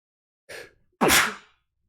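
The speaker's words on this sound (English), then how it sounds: "Oh, I sneeze again." A person sneezes indoors during a programming session: a brief inhaled catch followed by one sharp, loud burst, alone in an otherwise silent room.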